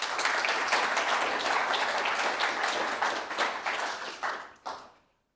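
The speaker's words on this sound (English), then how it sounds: "So I want to get an extra round of applause for both our speakers today" Audience applause at a business masterclass session on data orchestration, dense and steady clapping for about four seconds before thinning into a few last claps and stopping.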